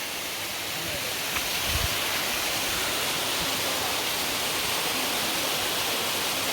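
Water tumbling down Nokata waterfall in Bilaichhari, Rangamati, producing a steady, dense roar that fills the clip evenly from start to finish, close and loud, with no break.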